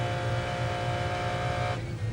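A 1995 McLaren F1 race car at Le Mans, heard from onboard: a loud, steady engine drone with strong harmonic whine, holding tone then easing as the car brakes for a fast right-hand corner, with no voices.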